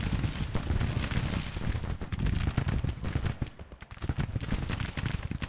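Massed infantry musket fire from the game Grand Tactician: The Civil War, a continuous crackling fusillade of overlapping shots with heavy low rumble, briefly thinning near the middle before the volleys pick up again.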